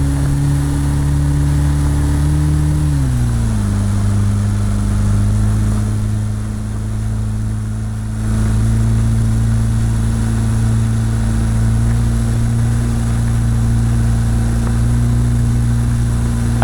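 Car on big wheels with the default engine driving in the Roblox game A Desrt, a loud steady engine drone that drops in pitch early on and then holds an even hum throughout.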